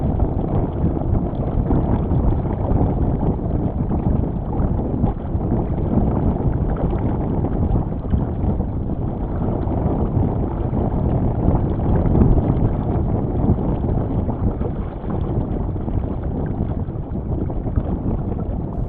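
Wind gusting across a lake, a steady broad rush of air buffeting close to the microphone, with faint water movement beneath and no pause across the whole stretch.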